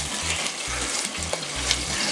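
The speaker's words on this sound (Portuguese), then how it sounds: "A gente vai fritando, jogando uma aguinha, virando." Pork leg sizzling in a pan with a splash of water, a loud, steady crackling fry with rhythmic low scraping as the meat is stirred and turned, no talking.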